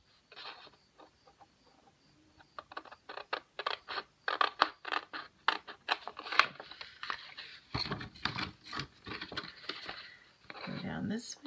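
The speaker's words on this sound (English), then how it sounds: "Just cut it out by hand" Paper library pocket cut out by hand with scissors, a series of close crisp snipping and rustling sounds in irregular bursts, with a voice speaking over parts of it.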